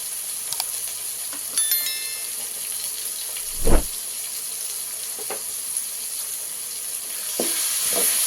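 Ginger garlic paste fries with bitter gourd in a pan, a steady close sizzling hiss broken by a few soft stirring scrapes and clinks, with no one speaking.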